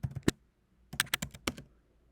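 Light keystrokes tap on a computer keyboard in two short bursts, a few quick clicks, a pause, then a faster run of five or six taps, close and fairly quiet in an otherwise silent room.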